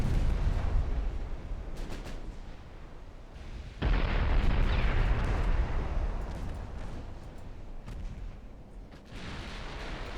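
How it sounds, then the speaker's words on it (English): A torpedo strikes a cruiser in a naval battle in Ultimate Admiral Dreadnoughts, a deep, heavy explosion bursting out partway through amid rumbling gunfire and distant booms of the battle. "As we score a torpedo hit on the cruiser"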